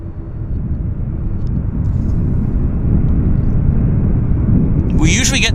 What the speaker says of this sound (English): What a treat seeing this monstrous Airbus.